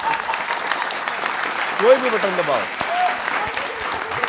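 An audience at a political rally applauds a speech, with steady, dense clapping throughout, heard under a voice talking over it.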